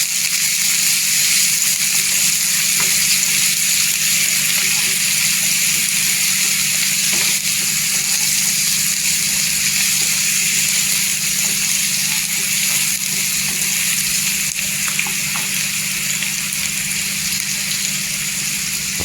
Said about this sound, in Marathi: कांदा चांगले असे गुलाबी कलरवर करून घ्यायचा तेलावर परतून